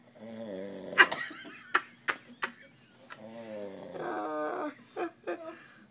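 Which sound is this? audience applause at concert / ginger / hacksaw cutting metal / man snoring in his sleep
man snoring in his sleep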